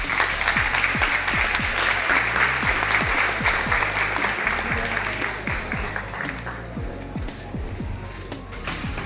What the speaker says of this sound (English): could you please help me with giving her a round of applause